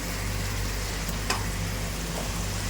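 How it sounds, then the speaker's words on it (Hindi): Minced chicken cooks in a pan with pureed tomato and a stock cube, giving a loud, continuous sizzle with a brief scrape of stirring near the middle and no speech. "बहुत ही अच्छे से भुनाई करना है आपको।"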